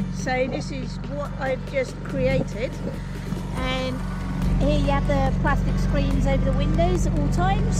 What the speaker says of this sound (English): Excuse the noise of the generator. We've had that on for the sewing machine.